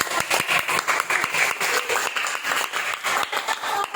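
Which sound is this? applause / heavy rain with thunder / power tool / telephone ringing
applause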